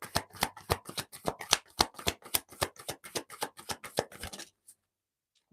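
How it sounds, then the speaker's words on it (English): Tarot cards are shuffled close up in a rapid series of crisp riffling snaps, about twenty in a row, then stopping into silence. "So I really need to give them a good shuffle."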